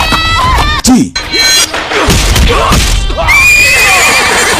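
A horse neighs loudly with shrill whinnies amid thuds and crashes and a hail of arrows, in a dramatic, busy battle soundscape.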